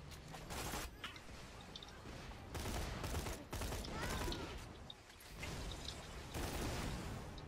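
A rifle in Borderlands: The Pre-Sequel fires in repeated bursts, dense rapid volleys spaced around a second apart with brief gaps between them, fairly quiet overall.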